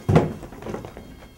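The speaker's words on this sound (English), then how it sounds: "Hurry up and shut the door." A single dull thud of a door shutting nearby, followed by a brief low rattle fading out.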